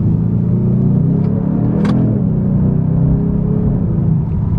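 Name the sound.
Hyundai Genesis car accelerating at over half throttle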